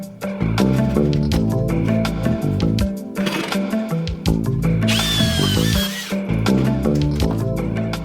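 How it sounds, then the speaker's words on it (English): Power drill with a large bit boring through an old rubber tire, a steady loud whine with the motor pitch shifting as the bit bites and releases, close and continuous. "I also chose a large drill bit so the studs would go through easier."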